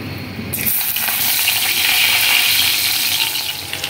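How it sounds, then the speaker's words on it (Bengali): Onion frying in a pan for a rezala-style curry, starting with a sudden loud burst of hissing sizzle as it hits the oil, then holding a steady, close crackle with no talk. "পেঁয়াজটা যখন মোটামুটি ভাজা হয়ে যাবে"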